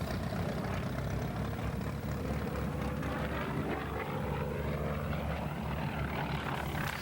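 General Motors-built FM-2 Wildcat fighter in flight, its radial piston engine and propeller droning steadily and loudly throughout with a dense, rumbling roar and no pauses.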